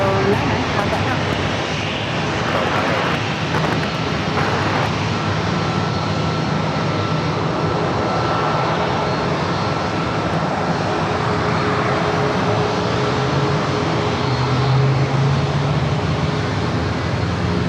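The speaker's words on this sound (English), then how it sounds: "American at A321 heading to Dallas Fort Worth, Texas, flight 1617" American Airlines Airbus A321 jet airliner at San Diego airport, a loud, steady jet engine roar holding throughout with broadband rumble and whine, while people talk faintly over it.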